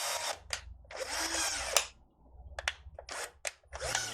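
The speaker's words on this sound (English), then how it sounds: "going to use a power drill" A basic power drill fitted with an ordinary bit bores a hole at a center-punched mark for a sharpening strop, loud whining bursts of varying length separated by short pauses, close to the mic.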